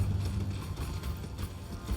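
Torrent, the spirit horse in Elden Ring, gallops with a rapid, steady clip-clop of hooves under a low rumble, at moderate loudness and with no speech.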